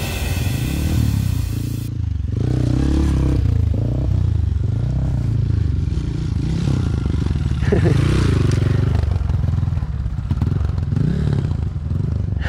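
A motorcycle rides along a rough path near a ravine, its engine droning steadily, with clatter, scraping and occasional thuds from the bike over the uneven ground, close and loud.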